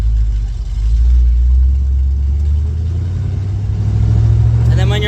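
A manual-transmission car engine rumbles low and steady close by, its pitch rising slightly as the clutch is let out and gas applied, a continuous throaty drone throughout.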